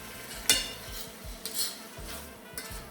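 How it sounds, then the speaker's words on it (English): Heavy cream is stirred into a hot pan with a utensil, giving soft sizzling and a few light scrapes and clinks against the pan, quiet and close with no talking. "So I'm going to add my heavy cream. Stir it in, incorporate it."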